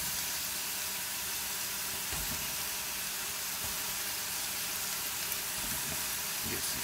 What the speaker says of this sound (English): Get this browning in here.